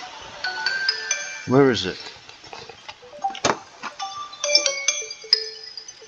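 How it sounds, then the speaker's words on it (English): An alarm chimes on a tablet, giving a repeating series of bright electronic tones over several seconds, while a person talks quietly over it. "Somewhere I've got an alarm set on my tablet for 11 a.m."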